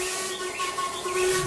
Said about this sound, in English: Gordon's speech was interrupted by a booming whistle in the distance.